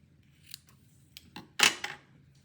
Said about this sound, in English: knot on the bolt and then just snip it.